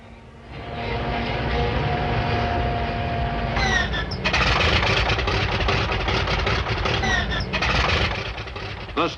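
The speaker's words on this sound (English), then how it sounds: "300 superforts were ready for the takeoff." The engines of World War II B-29 Superfortress bombers idle with a low, droning rumble, then swell louder partway through as more engines join in for takeoff, with a narrator speaking over it.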